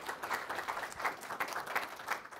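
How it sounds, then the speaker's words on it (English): Audience applause at a city council meeting, a short burst of many hands clapping at moderate level from a small gathered crowd, fairly close and without voices over it. "Round of applause"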